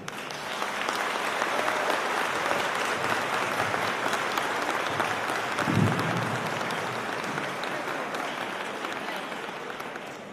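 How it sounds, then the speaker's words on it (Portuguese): Seminar audience bursts into sustained applause after a keynote on management leadership, a dense even wash of clapping filling the room for about ten seconds with no voices over it. "Os aplausos foram dados, mais do que justamente"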